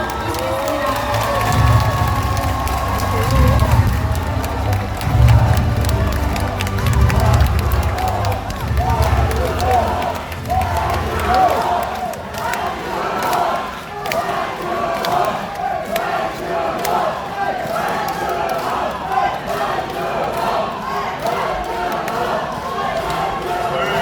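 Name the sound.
crowd applauding and cheering at a political rally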